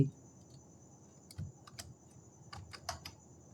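Keys clack on a computer keyboard as Python code is typed, a short sparse run of quiet, close taps with brief gaps between them and faint room hiss underneath.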